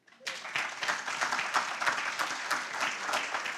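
An art club audience breaks into steady, fairly close applause to welcome a guest speaker, the clapping starting abruptly and holding evenly throughout.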